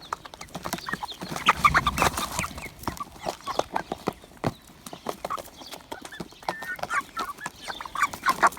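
A chicken clucks close by in a lively farmyard, with brief clucks and calls over shuffling, knocking movement noise and no clear talking.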